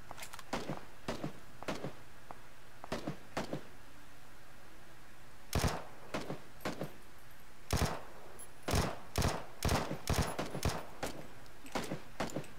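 Gunfire in a shooting simulator video game: scattered sharp shots, single and in quick bursts, ring out over roughly thirteen seconds, some close and loud, others fainter.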